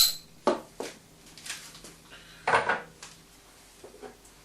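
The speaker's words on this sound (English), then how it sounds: "let's crack this beer open" A bottle of Dorset Piddle Jimmy Riddle ale, 3.7% ABV, is handled and opened with a few sharp glassy clinks and knocks, then softer rustles and taps at close range, without speech.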